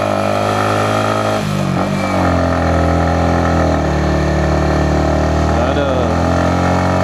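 A motorcycle engine runs in first gear on a mountain road trip, loud and close with a steady droning hum and slight pitch swells as the throttle shifts, while a voice speaks over it.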